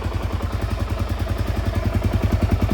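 Suzuki DRZ400S engine running in gear at idle with a Rekluse clutch, giving a steady, close, rhythmic single-cylinder thump with mechanical clatter and no talk.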